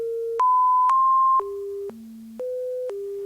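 A synthesized sine-wave melody built on a 400 Hz base pitch: seven clean, steady electronic tones in even steps, each held about half a second, jumping up and down in pitch, loud and alone.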